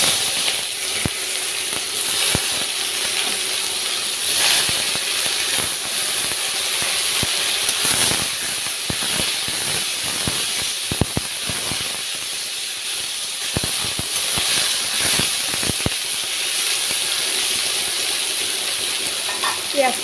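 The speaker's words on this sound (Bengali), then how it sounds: "গরম তেলের মধ্যে আমি আস্ত জিরা দিয়ে দিচ্ছি, দুটো শুকনো লঙ্কা চিড়ে দিয়ে দেবো, তার মধ্যে দিয়ে দেবো পেঁয়াজ কুচি" Whole cumin, split dried chillies and chopped onion fry in hot oil for chicken kasha, giving a steady, loud, close hiss of sizzling oil with scattered crackles and pops throughout, and no talking.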